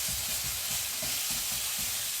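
Banana skin bacon with marinade cooking in a pan, a soft steady sizzle with rhythmic stirring scrapes repeating about every quarter second, close and moderately quiet with no talking.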